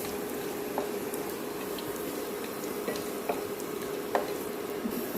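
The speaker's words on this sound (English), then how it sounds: "stir fry the spices" Whole spices stir-fried in oil for a Malaysian fried onion chicken gravy, a soft continuous sizzle with scattered crackles and light stirring scrapes, heard close and alone.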